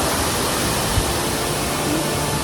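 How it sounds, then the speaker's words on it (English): A waterfall at an outdoor location during a photography workshop gives off a steady, dense roar of rushing water, constant and even throughout, with no voices. "look at the waterfall"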